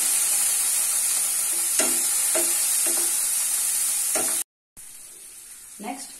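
Tomato frying in a pan with onions cooked to brown, a steady close sizzle with several soft scraping stirs and a brief dropout before the frying resumes.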